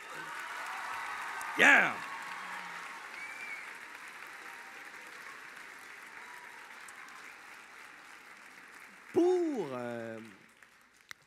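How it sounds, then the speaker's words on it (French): A gala audience applauds: a long, even wash of clapping at moderate level across the hall, with a short shout near the start and a brief voice rising over it near the end as it fades. "Applaudissez-les!"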